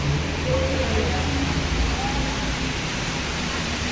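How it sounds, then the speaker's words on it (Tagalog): Heavy rain pouring in Hong Kong, a dense, loud, steady roar of water with faint low hum beneath, continuous throughout. "Sobrang lakas ng ulan."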